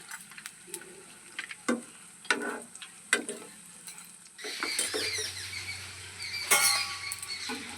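Potato and egg tiffin snacks flipped and frying in oil, a few scattered scrapes and clicks giving way to a steady, louder bubbling sizzle in the second half.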